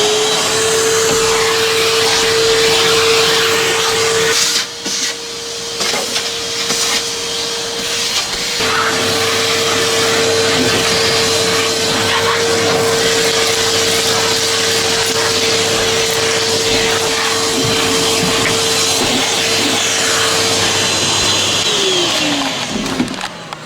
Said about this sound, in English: from the Funky Farmer vacuuming with Henry